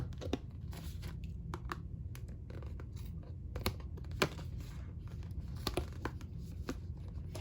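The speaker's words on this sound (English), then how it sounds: "I'm going to just kind of jam my scissors in here" Irregular crinkling and tearing of thin aluminum foil as scissors are jammed through it, with scattered crunchy snaps over a low steady background hum.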